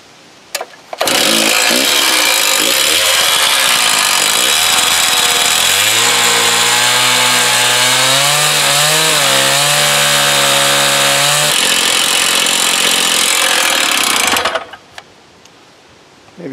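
Stihl TS 350 Super cut-off saw cutting brick: a loud, close two-stroke engine roars steadily for about thirteen seconds, its pitch sliding up and down under load before cutting off.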